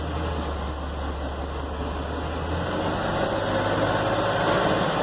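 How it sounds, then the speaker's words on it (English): The correct FC engine of a 1964 Corvair Greenbrier van runs while driving, heard from inside the van sharing the engine compartment. A steady, droning hum with low vibration continues throughout and swells slightly near the end. "you're going to get a little bit more noise than you would a car because you are basically in the same compartment as the engine"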